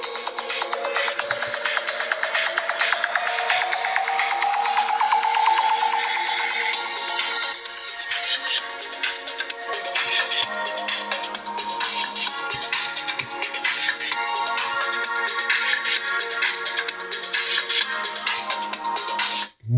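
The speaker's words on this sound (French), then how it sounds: "On va maintenant écouter le haut-parleur." A Nubia Z40 Pro smartphone plays a tune through its stereo loudspeakers. A rising tone opens into busy, bright, slightly tinny music that continues to the end, where it stops with a sharp click, and no one speaks over it.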